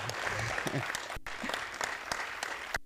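Audience applause welcoming a speaker at a summit on the digital economy, a burst of clapping from a nearby crowd with a voice faintly heard over it.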